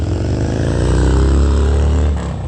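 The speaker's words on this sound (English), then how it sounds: "That was a motorcycle." A motorcycle rumbles past on a road, a loud, steady engine drone with strong low harmonics that swells and holds for a couple of seconds before easing off, no talking over it.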